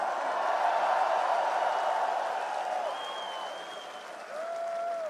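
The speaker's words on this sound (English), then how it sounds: "Make some noise for yourselves." Festival crowd at a Graspop 2024 metal show cheering and applauding, a broad sustained roar of clapping with scattered whoops and whistles rising above it, loud and continuous, easing slightly near the end.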